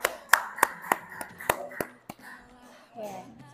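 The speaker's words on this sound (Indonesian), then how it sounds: "tepuk tangan untuk kelompok 1 ya" Classroom clapping for a student group presentation, a handful of sharp separate claps with gaps between them, fairly quiet, followed by children talking softly.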